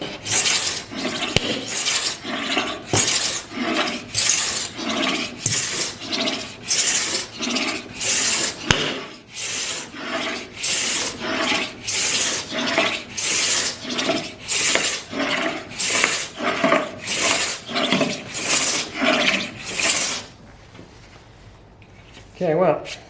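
Hand plane strokes shaving purpleheart wood for a torsion box table: a steady run of about two dozen rhythmic rasping passes, close and loud, each a sharp hiss with brief gaps, ending in quieter shop noise.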